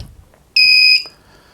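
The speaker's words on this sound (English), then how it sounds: "that squeak was the inverter firing up" A power inverter starts up during a fridge energy-consumption test, giving a loud, high, steady electronic squeal of about half a second that stops abruptly, followed by a faint click and hum.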